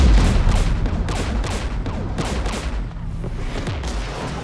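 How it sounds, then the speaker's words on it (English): Heavy gunfire in Mass Effect 3 near a jamming tower with anti-aircraft guns, a loud dense barrage of repeated shots and booming impacts, steady throughout with no talking. "We're taking fire."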